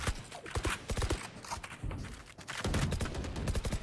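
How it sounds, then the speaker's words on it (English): Sharp gunshots from the video game Valorant ring out in quick, clustered bursts during a collegiate esports match, loud and close, mixed with rapid clatter and steps. "Good work there by Calyptic, getting that headshot."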